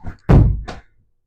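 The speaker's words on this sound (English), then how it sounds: "I'll just throw a nice simple shot here." A disc golf disc thrown into a HYZR indoor simulator net: one loud, close, dull thunk of impact with a short rustling tail, preceded by a faint shuffle.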